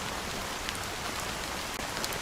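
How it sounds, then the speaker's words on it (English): Heavy rain pours down in a steady, dense hiss of drops hitting surfaces, constant and enveloping with a few slightly louder splashes, no voices. "how long has this rain been going on for?"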